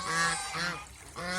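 Several geese honk together in a loud, overlapping chorus of nasal calls, with a brief lull before another burst of honking.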